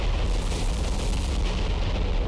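Bombs exploding on a battleship in the naval combat game War on the Sea, a short, dense, continuous roar of heavy blasts, loud and close.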